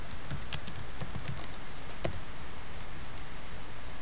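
Fingers type on a computer keyboard at close range, with scattered, irregular key clicks and a couple of sharper taps over a quiet background hiss.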